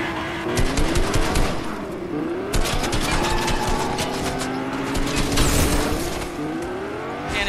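Fortnite car engines whine and rev continuously, with rapid gunfire-like bursts and loud crashes layered over a dense, busy mix.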